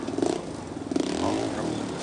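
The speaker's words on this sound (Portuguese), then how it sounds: "E olha, olha a rotação do motor" An off-road motorcycle engine revs while the bike climbs a rock, giving short throttle blips followed by a rising, strained rev. The sound is close and moderately loud, and a voice speaks underneath.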